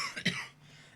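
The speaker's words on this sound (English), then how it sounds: "That was a real cough, by the way." A single real cough from a person with a sore throat, one short harsh burst, close and clear, followed by quiet.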